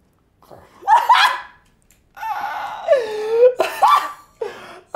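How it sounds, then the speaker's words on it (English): A character in the Resident Evil Village video game gives harsh, hacking coughs in separate loud bursts, with rasping breaths between them, close and clear against near-silence. "you hear him coughing like that? Hear him coughing up his fucking lungs?"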